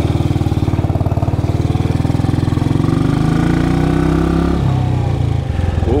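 Classic motorcycle from the 1949–1958 era, its single engine pulsing in a fast steady beat while being gently revved at walking pace, loud and close, the pitch rising then dropping back toward idle.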